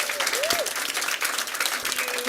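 A crowd at a school district board meeting cheers and applauds an honoree, steady dense clapping with a rising whistle near the start, loud and sustained throughout.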